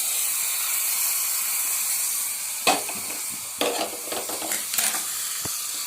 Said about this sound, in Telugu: ఇందులో వేసుకొని కలిపేసుకోవటమే